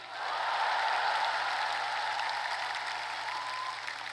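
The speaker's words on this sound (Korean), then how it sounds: "우리 두 분 후보님께 뜨거운 격려의 박수를 부탁드립니다" An audience at a political campaign speech applauds warmly for two candidates, a dense wash of clapping that swells quickly and holds steady, heard alone at moderate distance.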